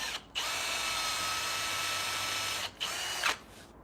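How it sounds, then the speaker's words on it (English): A power drill whirs steadily for a few seconds while driving screws into the wooden legs of a salvaged barn-door coffee table, pausing briefly and then giving short bursts near the end, close and loud. "So I'm just going to put 3 screws down the side here"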